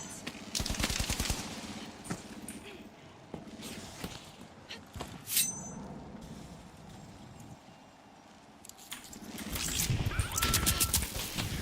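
In a video game, turret gunfire rattles in quick bursts at moderate distance, mixed with footsteps and other game effects, the rapid shots clustering at the start and returning near the end.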